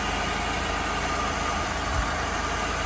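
A 1985 Chevy Caprice Classic Wagon engine idles steadily, a smooth continuous low hum with a faint even pulse and no speech over it.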